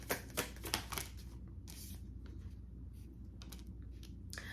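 Tarot cards being shuffled and drawn, a few crisp riffling bursts early on followed by softer flicks and slides of cards against a low steady background hum.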